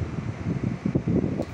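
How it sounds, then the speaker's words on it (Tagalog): A Koppel air conditioner pump runs during a repair check for an EE error, giving a steady low whirring hum with a faint fluttering, close and continuous. "nakita natin mga katik, umaandar naman yung pump"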